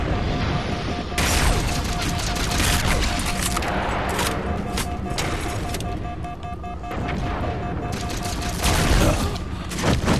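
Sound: gunfire from the video game Halo 4

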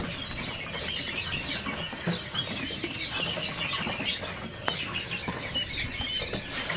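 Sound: perinjak lumut bird flapping wings at a bird kiosk

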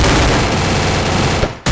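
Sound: gunshot headshot in a video game shooter

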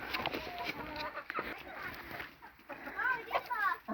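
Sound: chickens clucking

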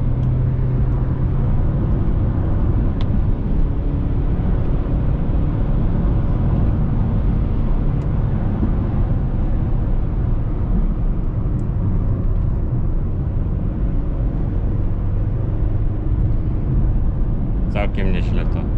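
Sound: Subaru Legacy 2.0 boxer engine revving to high rpm

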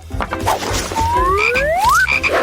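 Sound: frog croaking

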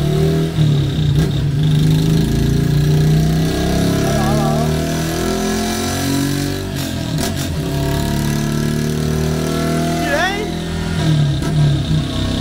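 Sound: Honda Biz 110i motorcycle engine revving on a dynamometer

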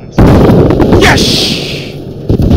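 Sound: IED explosion blowing up enemy vehicle in a video game

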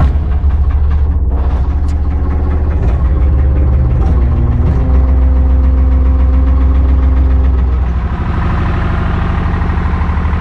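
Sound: excavator engine running

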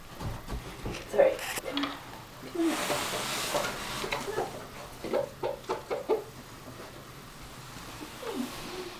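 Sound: rooster clucking

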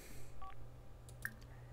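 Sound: Sims character checking phone in The Sims 4 video game

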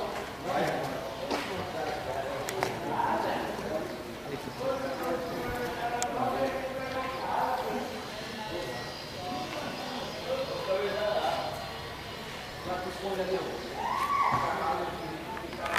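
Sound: horses clip-clopping at a supply center

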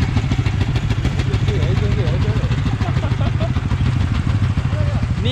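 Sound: motorcycle engine idling

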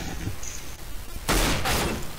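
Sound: revolver gunshots in the video game CS:GO

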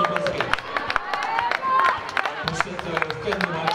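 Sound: applause after a women's basketball trophy final

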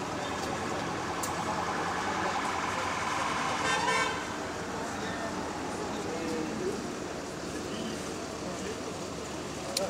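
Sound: London bus engine idling at high RPM

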